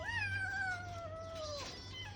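A kitten gives one drawn-out meow that slides downward in pitch and lasts over a second, fairly close, over a steady low hum.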